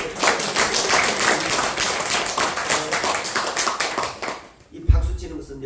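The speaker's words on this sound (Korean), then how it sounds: "박수 한번" A church congregation clapping during a Sunday worship service, a brisk mass of hand claps filling nearly five seconds at moderate loudness before fading out, with speech coming in at the end.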